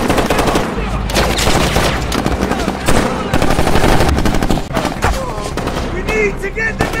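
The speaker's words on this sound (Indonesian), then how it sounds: "sehingga baku tembak pun terjadi lagi." Dense bursts of machine-gun fire and gunshots in an action-movie battle scene, loud and continuous with rapid overlapping rattles, brief booms and a few shouted voices mixed in.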